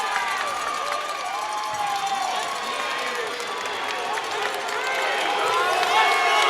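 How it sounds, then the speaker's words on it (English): A high school wrestling crowd in a gym keeps up a loud, steady roar of shouting and cheering, with excited voices and whistling rising over the din and swelling toward the end. "You hear the crowd."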